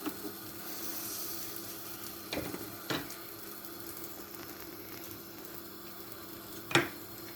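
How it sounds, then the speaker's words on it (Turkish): Quiet sizzling of börek frying in a pan, a soft continuous crackle of hot oil broken by a few sharp clatters and scrapes as it is handled, with no one speaking. "Böreğim kızarmaya başladı"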